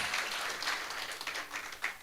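A church congregation at a Sunday service applauds visiting guests: a couple of seconds of scattered, moderately distant clapping from a crowd.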